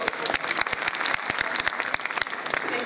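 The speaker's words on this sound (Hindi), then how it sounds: "मैं अनुरोध करूँगा हमारी कुल सचिव महोदया, जोरदार तालियों से उनका।" Enthusiastic audience applause fills a university function hall, with many hands clapping in a dense, lively burst and sharp individual claps standing out over a few seconds.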